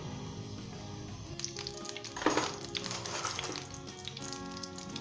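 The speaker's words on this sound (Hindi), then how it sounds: "सबसे पहले हम इसके अंदर वेजिटेबल ऑयल डालेंगे गर्म होने के लिए" Vegetable oil heats and sizzles steadily in a non-stick frying pan, a continuous close frying hiss with a brief louder crackle midway and no talking.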